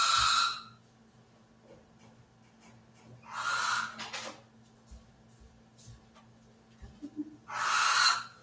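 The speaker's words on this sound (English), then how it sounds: "this is what an adult barn owl looks like" Adult barn owl named Lookie giving three loud, breathy screeching hisses spaced a few seconds apart, with quiet room hum and small handling knocks between them.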